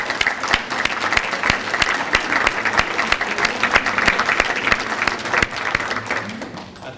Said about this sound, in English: they and their teachers deserve a round of applause right now